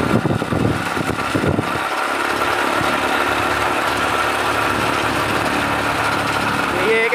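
A motorcycle engine runs at a steady idle, a close continuous rumble with a higher buzzing whine, with speech-like sounds mixed into the opening second.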